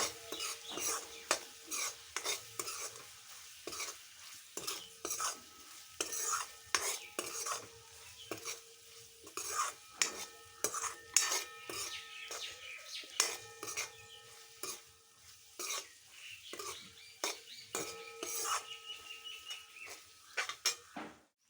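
A spoon scrapes and clinks repeatedly against a pan while boiled egg masala is stirred, irregular close strokes over a faint sizzle, with brief quiet gaps between bursts.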